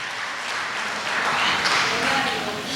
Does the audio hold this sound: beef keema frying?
no